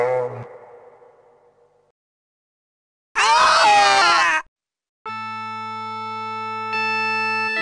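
A giant green-eyed ghost in a 1997 children's video game screams satanically, a loud wavering distorted shriek lasting about a second, between a fading tone and a sustained electronic chord.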